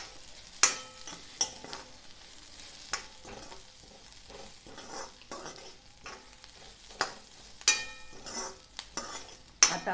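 Poppy seeds sauté into a liver masala in a pan, with a soft background sizzle broken by repeated scrapes and clinks of a spoon stirring against the metal, fairly quiet and close.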